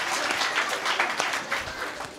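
An audience at a comic Marathi kirtan breaks into applause, a dense, steady wash of many hands clapping at a moderate distance, with no talk over it.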